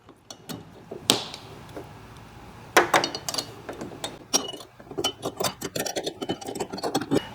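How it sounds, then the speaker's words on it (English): Two wrenches tightening the supplied nut on a hood-mounted ditch light bracket for a 2022+ Chevrolet Silverado 1500 make a string of close metallic clicks, taps and ratcheting clinks that quicken toward the end. "So now with 2 wrenches, I'm going to go ahead and tighten it."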